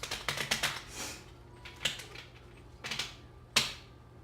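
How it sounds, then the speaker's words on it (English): Crisp riffling and snapping of cards, a quick burst of flicks followed by a few separate shuffles, close and fairly quiet with no talking. "shuffle the cards"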